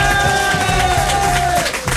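A huge crowd of about 11,000 people applauds at a French TV comedy show, a dense steady roar of clapping over sustained musical tones, fading slightly near the end.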